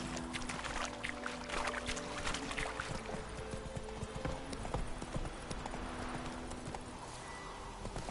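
Horse hooves clip-clop steadily at a riding pace in The Witcher 3, a continuous rhythmic clatter over a dense ambient bed.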